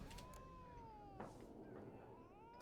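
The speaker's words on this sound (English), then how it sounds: "That cat, stop hissing at me every time I stop talking to somebody." A cat in the video game The Witcher 3 lets out a drawn-out, wavering yowl, faint and low in the mix, repeated briefly with quiet background game ambience.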